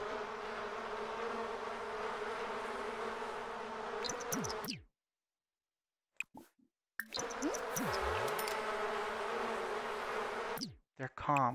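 Loud, steady buzzing of bees swarming close by in the video game The Sims 4, cutting off abruptly into silence twice before the droning resumes.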